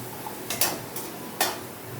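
Curry leaves and onions sizzling in oil in a pan, a quiet steady hiss broken by two or three sharp spatula scrapes and stirring clatters.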